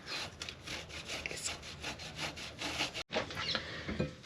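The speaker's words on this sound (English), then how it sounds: "Grate it. Just one apple. Skin on." A single skin-on apple rubbed against a grater in steady, rhythmic rasping strokes, close and fairly loud, with a brief break near the end before the scraping resumes.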